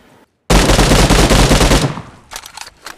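Rapid automatic fire from a new 5.56 rifle in the mobile game BGMI, a loud sustained burst of shots in quick succession lasting over a second, then several quieter trailing sounds.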